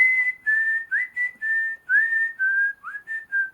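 The whistled tune from the film Kill Bill, about a dozen sustained notes with short gaps between them, clear and close, with no other sound behind it.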